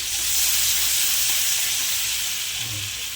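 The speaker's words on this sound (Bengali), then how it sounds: "বাটারটা একটু গলে মিশিয়ে দিই।" Butter melts and sizzles in a pan with a steady, fairly loud hiss, and a faint stir is heard near the end.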